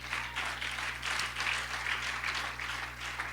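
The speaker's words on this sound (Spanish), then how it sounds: "Dele un fuerte aplauso al Señor." A church congregation applauds in a dense, sustained patter of many hands, fairly even in loudness over a low steady hum, with no speech.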